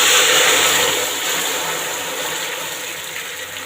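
Strained jaggery water poured into hot melted ghee for sweet jaggery rice gives a loud broad hissing sizzle that slowly fades over a few seconds, with no talking.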